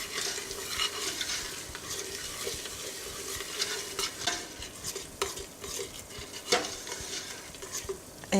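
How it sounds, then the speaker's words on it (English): Spoon stirring spaghetti jollof seasoned with ground rosemary and thyme in a pot, giving soft scraping and knocking strokes over a low sizzle. A few sharper clinks stand out, and nobody speaks. "Give it a stir."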